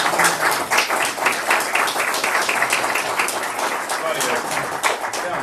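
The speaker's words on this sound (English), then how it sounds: "give him a hand of applause" Audience applause for a speaker at an event, dense steady clapping throughout, fairly loud and close, with faint voices mixed in beneath.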